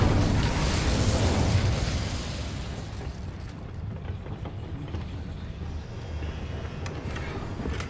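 An Incendio fire spell bursts in Hogwarts Legacy: a broad whooshing flare of flame that swells for a couple of seconds, then settles into a lower crackling rumble that trails off, no talk over it.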